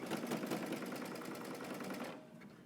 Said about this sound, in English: I'm going to just stitch and then stitch back